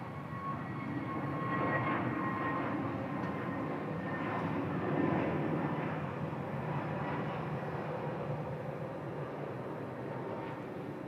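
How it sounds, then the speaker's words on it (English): A Vistara Airbus A321neo starts its takeoff roll at Bangkok, a steady, distant jet-engine roar with faint whining tones that swells slightly midway and holds at a moderate level. "A321 Neo. Very nice. Just commencing their takeoff roll."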